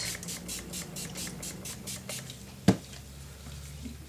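Colour sprays being spritzed for a spring mini album craft: a quick run of rhythmic, hissy spray bursts, followed by a single sharp tap, fairly close in a quiet room.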